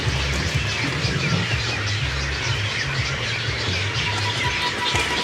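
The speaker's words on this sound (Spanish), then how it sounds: "Estamos rodeados de miles de aves exóticas." Thousands of exotic birds at a flamingo sanctuary in Colombia squawk and call without pause, a dense, loud chorus of overlapping cries filling the air with no voices.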